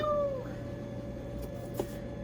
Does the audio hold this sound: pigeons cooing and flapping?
no